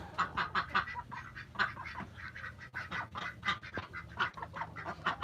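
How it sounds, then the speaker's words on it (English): Several ducks quack busily and repeatedly in a garden, a rapid, overlapping chatter, close by and fairly loud, with no talking. "These noisy ducks."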